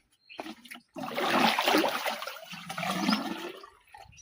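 Water gushing into a tank or pot at a farm, a loud steady rushing pour after a brief start, continuing with trickling and splashing.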